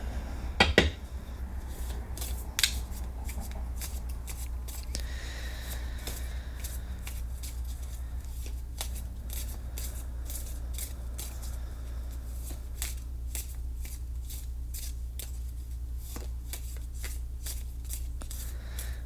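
Oracle cards from a tarot deck shuffled steadily for a reading, producing continuous rapid papery flicks and riffles with a couple of firmer taps early on, close and moderately quiet over low hum.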